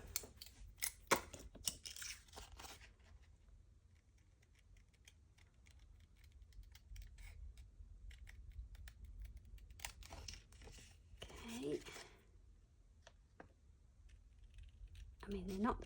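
Small scissors snip paper in short bursts of sharp crisp cuts, separated by quiet pauses with faint rustling.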